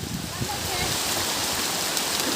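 Continuous hiss of rain falling on a Bangladeshi village, steady and fairly close, with faint low rumbles and scattered sounds beneath the downpour.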